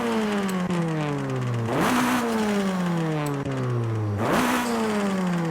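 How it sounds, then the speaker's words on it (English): A Honda Civic Type R with an upgraded turbo in Forza Horizon 5 revs hard through two rising gear pulls, each ending in a shift and a whooshing turbo flutter, the engine note climbing again loud and close. "let's go to hear how the engine turbo sounds different with each one"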